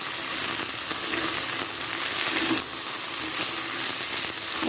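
Okra (bhindi) sizzles steadily as it fries in a pan, with soft scraping and stirring running through the continuous hiss.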